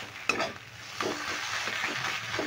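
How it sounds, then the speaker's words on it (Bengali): A fried spice mix being stirred into a potato filling in a pan for capsicum chops, with close, soft scraping and a faint sizzle in short, uneven strokes and no talk. "ভাজা মশলাটা দিলেও খুব ভালো করে মিশিয়ে নেব পুরের সঙ্গে"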